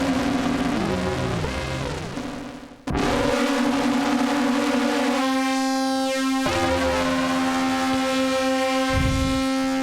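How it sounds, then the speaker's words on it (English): Thick, wavering tones from an Arturia MicroFreak synthesizer in unison spread mode, detuned voices beating against each other, sustained notes that shift pitch, loud and close with a brief dropout. "I can control how out of tune the other voices are, which is why it all sounds kind of weird"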